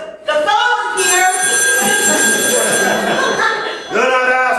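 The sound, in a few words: telephone ringing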